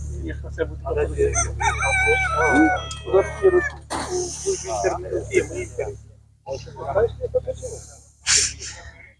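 Amid chatter and voices at an animal market, a rooster crows nearby, its strained call rising over the talk, with other animal noises and bustle around.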